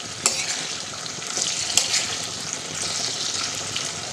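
Fried food with salt and jujube is stirred in a pan, a continuous close sizzle with a few sharp scraping knocks of the utensil against the pan.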